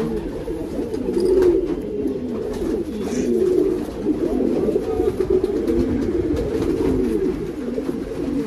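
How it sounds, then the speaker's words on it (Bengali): Kalshira pigeons, a short-sized domestic pair kept at a house, coo in low, repeated rolling phrases, close and continuous with no talk over them. "এটা হচ্ছে আমার বাড়ির এক পেয়ার কালশিরা পায়রা, শর্ট সাইজটাও দেখতে পাচ্ছ।"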